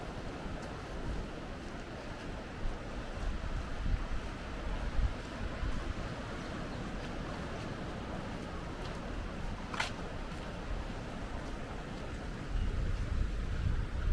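Steady wind and water wash fill a small harbour at Los Gigantes, Tenerife, a broad, even rush with gusty swells and a brief faint high tone midway.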